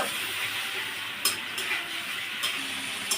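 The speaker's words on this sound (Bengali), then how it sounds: "এবার আমি মশলাটা সুন্দর করে আর একটু কষিয়ে নেব" Spice paste with a pinch of sugar fries in a pan for a brinjal dish, making a continuous close sizzle overlaid with a few distinct spatula clinks against the metal as it is stirred.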